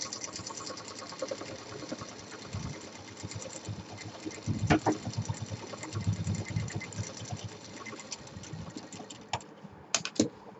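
A sewing machine stitches a handle onto a fabric basket, a quiet, uneven mechanical rattle with intermittent clicks and handling noises, fairly faint and stop-start throughout.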